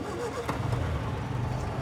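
A 1954 MG TF sports car's engine is started with a pull-type start lever, giving a brief cranking burst that turns into a low, steady running rumble over roughly two seconds.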